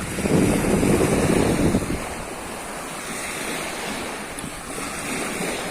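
Sea waves wash onto a shell-strewn shore in a loud surge, then settle into a softer, continuous rush with wind buffeting the microphone.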